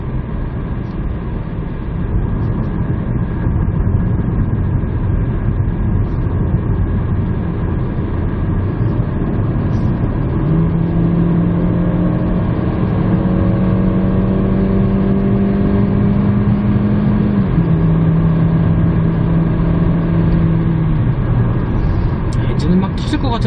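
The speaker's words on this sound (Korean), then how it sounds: "엔진은 막 터질 것 같은 소리를 내는데 정작 속도는 별로 안 나요." Kia Stonic engine straining under acceleration from inside the cabin, a loud droning hum whose tone climbs and steps down with gear changes, under ongoing road noise.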